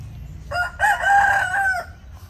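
A Bangkok rooster of the ornamental stick-tailed (ekor lidi) type crows once, close and loud, in one drawn-out call of about a second and a half.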